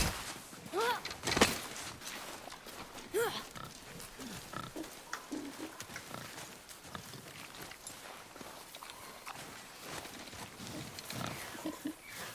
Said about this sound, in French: Je savais que c'était un sanglier.